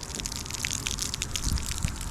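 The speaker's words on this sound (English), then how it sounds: "It's just spraying water into the air." Water spraying into the air from a sprinkler head broken clean off, a continuous hissing gush with splashes and drips, fairly close.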